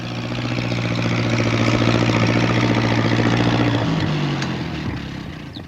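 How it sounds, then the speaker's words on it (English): Tractor engine in an animated rainy-countryside scene, a steady, loud idling drone with a low mechanical hum that holds for several seconds, then shifts in pitch and fades slightly. "He's going to try to get through with his tractor."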